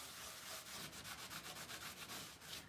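Black wax and liquid patina being rubbed by hand onto a dresser, a steady series of soft, rhythmic scrubbing strokes, fairly quiet and close, with no talk.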